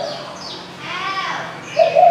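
A spotted dove gives a soft, close, low cooing call that rises and falls, ending in a couple of louder coos, with no talking.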